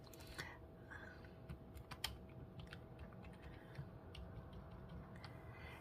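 Typing on a computer keyboard, with quiet, irregular key clicks over a steady low background hum and no speech.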